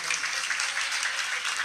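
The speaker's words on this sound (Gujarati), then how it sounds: "વિજયભાઈ ને કોઈ જોરદાર તાળીઓથી વધાવી લો સાહેબ" A seated audience at an evening bhajan gathering in a residential society applauds for a singer, giving a dense, steady wash of many hands clapping at a moderate distance.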